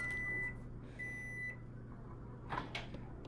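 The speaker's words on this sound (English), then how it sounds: "Microwave!" A microwave oven in the VR game Job Simulator, with a low steady hum broken by two short beeps early on and a clattering bump near the end, quiet and without talking.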